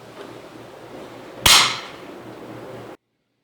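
A single sharp wooden clack of a bamboo clapper rings out once against a quiet background during meditation, with a brief bright decay.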